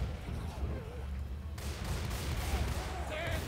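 Constant Left 4 Dead 2 gunfire in a chaotic co-op fight, rapid shots and booms layered densely under excited talking voices throughout.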